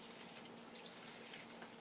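Tap water runs steadily into a sink for rinsing cotton yarn after dyeing, a soft, continuous broadband hiss at low level with no talking.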